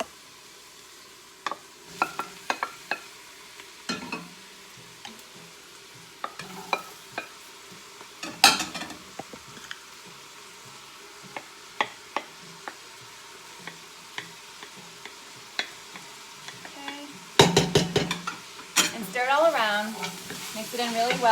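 Carrots, celery, garlic and tomato paste are stirred in a pot, with sizzling, repeated spoon scrapes and clacks, and a louder burst of clattering near the end.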